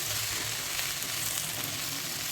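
A steady, dense sizzle of curry leaves frying in hot oil in a pan, constant and close with no talking.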